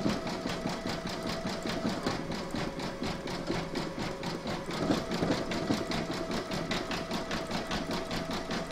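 Sewing machine stitching slowly on a large square scallop placemat, set to low speed, giving a steady rapid mechanical chatter of regular needle strokes that runs close and continuous throughout.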